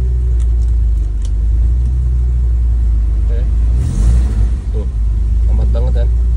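A car engine revs hard during an RPM check before it has warmed up, a steady close rumble swelling in bursts while people talk inside.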